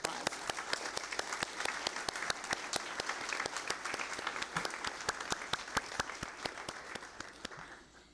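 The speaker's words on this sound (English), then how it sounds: "Let's give them a round of applause." A roomful of guests at a Memorial Day breakfast applauds, the claps sharp and distinct in a steady, even rhythm that carries on at moderate loudness before easing off near the end.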